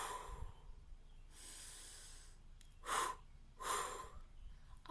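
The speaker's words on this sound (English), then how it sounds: "the breathing technique that we are going to use is a inhale through the nose, followed by an exhale, a short and a long exhale" Breathing exercise with a nasal inhale followed by a short and a long exhale; two breathy bursts stand out, close and fairly loud, after a quieter airy stretch, with no talking.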